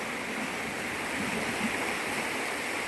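A river feed stream pours into a reservoir at Llandegfedd Lake, a continuous broadband rush of flowing water, close and steady with no voices.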